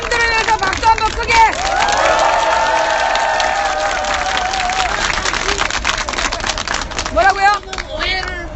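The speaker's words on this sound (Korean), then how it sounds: "여러분, 우리 대한의 아들들, 의경들을 위해서 박수 한번 크게." A large outdoor rally crowd applauds riot police, with clapping, cheering and babble rising around a speaker's amplified voice, sustained and loud throughout.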